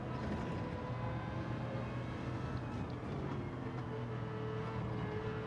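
Continuous high-pitched rotary engine drone from a race car in Gran Turismo 7 at Lago Maggiore, steady and fairly faint with shifting harmonic tones and no speech.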